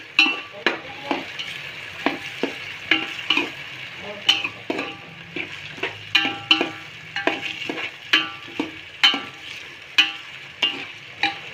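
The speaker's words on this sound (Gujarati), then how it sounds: "જે બટેટા છે તેને આમ ધીમા ગેસે સડવા દઈશું તેલમાં" Potatoes frying slowly in oil over a low flame for poha-batata, a close, busy sizzle broken by regular sharp scrapes and clinks of a spoon stirring against the pan, repeating steadily for several seconds without speech.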